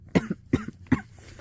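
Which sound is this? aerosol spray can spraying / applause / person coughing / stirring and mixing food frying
person coughing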